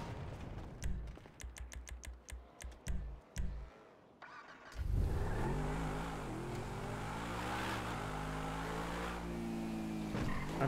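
A spaceship-like car driven in the video game GTA roleplay: a run of sharp gunfire-like cracks gives way to a loud, steady engine roar that holds and drones close up to the end.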